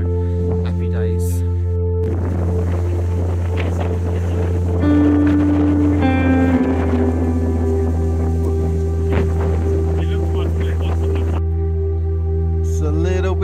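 Steady wind roars against the microphone outdoors, with a low engine-like drone and a voice talking over it throughout.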